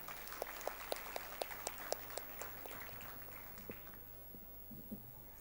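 Audience at an inter-religious gathering in a basilica gives a thin, distant round of clapping after a choir performance. Scattered individual claps ring out, then thin out and fade, faint against a low hum.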